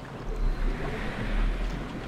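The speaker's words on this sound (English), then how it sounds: "you can hear the launches actually kicking in. I'm trying to speed the current up a little bit." A Planet Coaster water ride's launches push the current along in a steady rushing, churning wash of water that swells and dips over two seconds, with no talk.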